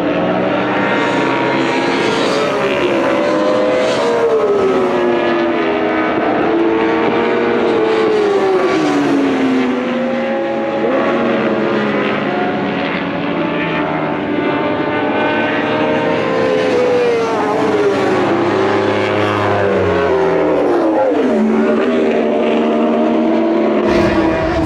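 A motorcycle ridden hard on the Thunderhill race track, its engine revving up and down through gear changes in a loud, continuous onboard roar with wind noise and no talk.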